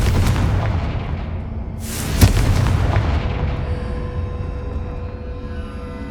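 A fiery Confringo spell explosion in the video game Hogwarts Legacy: a loud, close booming blast with a sharp crack partway through, followed by a long rumbling roar that slowly fades, no talking.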